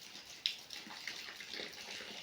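Rainwater rushes like a canal past the front of a house during heavy rain, a steady, fairly faint wash of flowing water with small splashes throughout.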